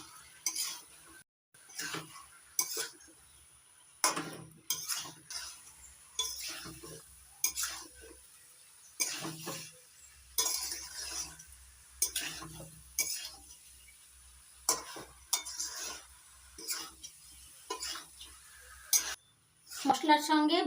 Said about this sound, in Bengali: এবার ভেজে রাখা আলু আর এঁচড় দিয়ে দিচ্ছি, ভালো করে কষিয়ে নেব মশলার সঙ্গে।